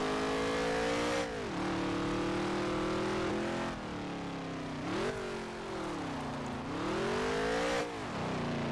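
A race car engine on a qualifying lap in the NASCAR Heat 3 video game, a loud continuous drone that rises and falls as it shifts through gears and swells and dips through the corners, with no voices.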